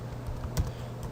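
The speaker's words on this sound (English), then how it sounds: "I'm just going to type it right in here then." Keyboard typing on a computer while filling in a Revit door schedule: a short burst of soft, close key taps over a quiet room hum, with no talking.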